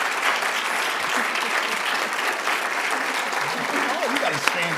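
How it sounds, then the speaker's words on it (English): An audience applauds guests at the close of a get-to-know session, steady dense clapping filling the room for several seconds, with a few voices audible beneath it. "can we give a round of applause to our guests before you go?"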